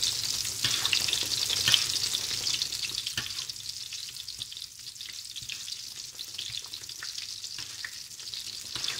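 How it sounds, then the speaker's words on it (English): Schnitzel fries in oil in a pan, a steady close hiss and crackle with scattered pops running throughout, as oil is spooned over the top of the cooked side. "while I'm frying the other side, I'm constantly putting some oil on the top of the first side"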